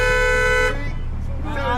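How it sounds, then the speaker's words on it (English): A taxi horn gives one sustained honk lasting under a second, loud and close, then cuts off as voices and street noise take over. "The taxi driver's natural reaction is to honk his horn to express his discomfort."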